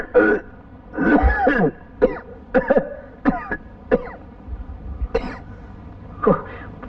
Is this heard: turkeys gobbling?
no